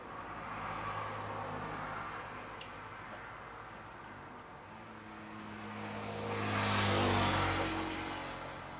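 Cars pass by outside a house, one swelling and fading early and another louder whoosh rising and falling near the end, heard at a distance with a single faint tick in between.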